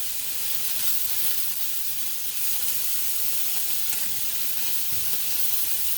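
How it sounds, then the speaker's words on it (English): Beaten eggs with frozen peas and carrots sizzle steadily in a hot pan for egg fried rice, a loud continuous hiss with faint stirring and no talking. "all we're going to do is scramble this, no different than any other scrambled egg for breakfast that you make"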